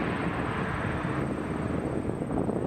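A Boeing 777 airliner at Toronto Pearson Airport gives a steady, loud, broadband jet engine roar that holds constant throughout, with no talk.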